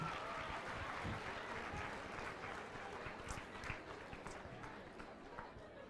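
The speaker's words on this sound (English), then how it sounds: "Give yourselves a quick round of applause for being here." Audience at a fall career expo keynote gives a round of applause, a steady wash of clapping that sounds fairly distant and subdued, carrying on for several seconds without a break.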